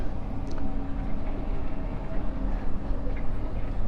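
A long Trans-Siberian Railway train at a station gives a steady, loud, low rumble that holds without a break, with faint higher rattles above it.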